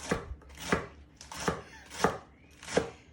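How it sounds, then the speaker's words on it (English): Knife chopping lettuce and other salad leaves and herbs on a board for a herb and flower salad, five firm evenly spaced cuts close up, with no talking. "So I'm going to chop up those bits"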